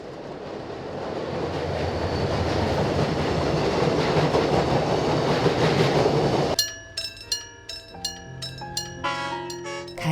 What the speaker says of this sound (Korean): 간이역을 떠나온 열차는 바쁜 도시를 향해 걸음을 재촉한다